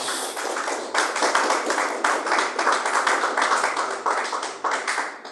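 A church congregation applauds for Jesus during a worship service, a loud, steady wash of many hands clapping with rhythmic pulses running throughout.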